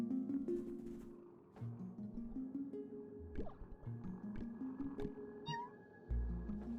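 Soft cat meows from a sleeping cat serving as a save point in the video game Ikenfell, heard faintly over game music with a few small squishy and dripping effects.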